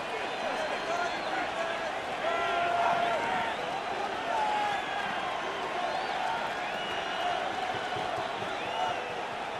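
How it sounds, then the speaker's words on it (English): Stadium crowd noise in a Madden NFL 26 simulation of the Ravens vs. Patriots AFC Championship, a steady dense roar of cheering that swells slightly near third down, with play-by-play commentary on top. "This crowd into it now as we get to third down."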